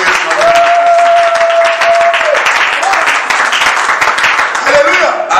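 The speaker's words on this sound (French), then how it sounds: "Acclame le Seigneur Jésus" Church congregation applauding during a French-language worship service, a steady dense wash of clapping throughout, with singing or sustained voices rising over it.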